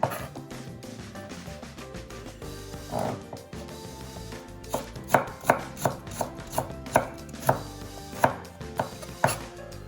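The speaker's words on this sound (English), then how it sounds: "using that rocking action that I used with the peppers, I'm just going to rotate the blade through and do some really nice kind of slices, thin slices" A knife rocking through carrots on a cutting board, cutting thin slices: quiet at first, then a quick regular run of crisp chops about twice a second, close and clear.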